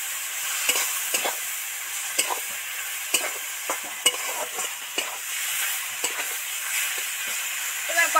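Turmeric and chilli powder stirred with a little water in an okra curry pan, a steady sizzle broken by repeated scraping strokes of a spoon, close and fairly loud.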